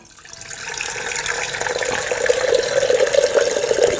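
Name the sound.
water being poured into a vessel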